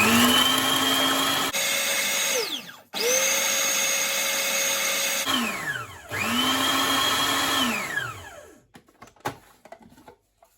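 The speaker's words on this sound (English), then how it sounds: "My seasonings have all been chopped nicely in my food processor." A food processor chops Jamaican pork seasonings in three loud bursts, each motor whine rising, holding steady and winding down, with short pauses between runs and a few light clicks and knocks at the end.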